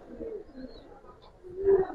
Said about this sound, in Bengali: অনেক কবুতর আছে এখানে